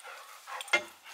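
A dog pants in quick breathy huffs close by, ending in a sharper exhaled snort, with no voices present.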